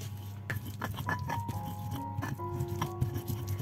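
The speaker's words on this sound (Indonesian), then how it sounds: "Lalu semua bumbu ini kita haluskan ya, ulek-ulek sampai halus." Spices with red chillies are ground by hand with a mortar and pestle for village-style fried rice, a close, steady scraping and crushing with quick, irregular strokes and no speech.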